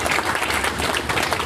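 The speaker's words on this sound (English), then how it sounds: "Thank you very much. Round of applause." Audience applause at a startup meetup, dense steady clapping from a crowd filling the whole short moment, close and loud.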